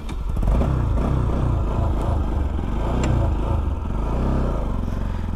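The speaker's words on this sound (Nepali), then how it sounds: "बाइक स्टार्ट हो नि त।" A motorcycle on an offroad ride runs with a steady, loud engine drone close by, its rumble rising and falling slightly as it moves along, with light clatter and no voices.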